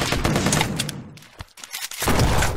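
Gunfire from a video game, a dense burst of rapid shots with a brief lull and another sustained volley, loud and close with no talking.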